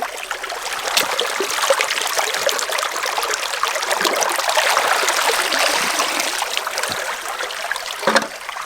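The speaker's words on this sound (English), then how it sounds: "60 litres of dirt doesn't seem like a lot until you hand feed it through a sluice" Water runs steadily through a hand-fed gold sluice outdoors, making a continuous close rushing and trickling. It holds at an even level with a few small splashes and knocks.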